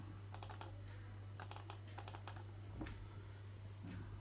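Someone types a password on a computer keyboard to log into DVR control software for a Sintech AHD CCTV camera. Quiet clusters of quick key taps come in three or four short bursts, followed by a single softer thump.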